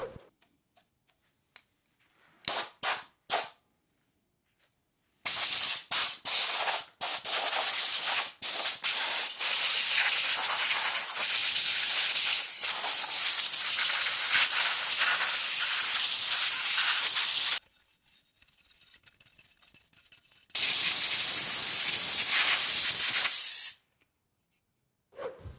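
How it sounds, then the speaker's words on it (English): Compressed air from a garage air compressor blasts dust out of a computer in loud, close hissing bursts, a few short puffs followed by a long continuous spray and another sustained blast after a pause. "take it out to the garage and blast all of the dust out with the air compressor"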